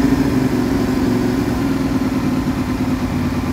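Motorcycle engine fitted with a GP oneCrabon aftermarket exhaust held steady at about 2,000 RPM, a loud, continuous low throbbing drone close by with no talk over it.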